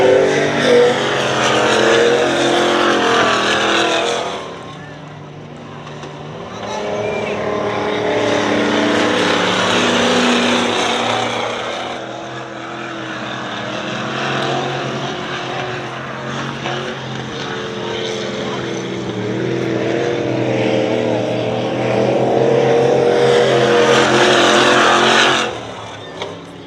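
Racing trucks roar around the dirt oval at Dirtona Raceway, their loud engines swelling and fading in repeated waves as they pass and circle the track over nearly half a minute.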